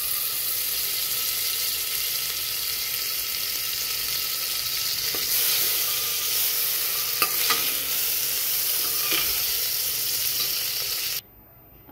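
Butter sizzles steadily in a pressure cooker as the tadka for pav bhaji is made, with a continuous frying hiss and a few faint stirring clicks, close up, before it cuts to silence at the end.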